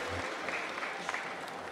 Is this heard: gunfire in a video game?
no